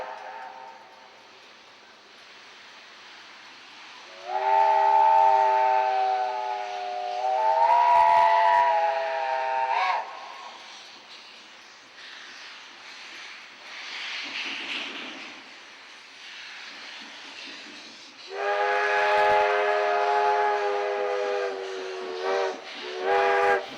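JA class steam locomotives sound their steam whistles in long, loud chords, two sustained blasts near the start and a burst of shorter blasts later, with faint engine noise between.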